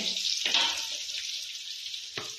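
Close, loud hiss of chicken wings frying in hot oil, with a sharp burst as food drops in and another spatter later.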